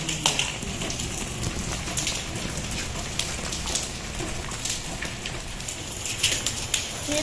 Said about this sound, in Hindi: जब ये ओले बरस रहे हैं